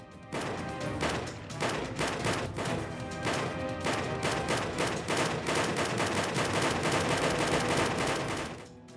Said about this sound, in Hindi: हेलमेट पहने दूसरे बदमाश ने उमेश की गाड़ी पर एक एक करके गोलियां दागनी शुरू कर दी।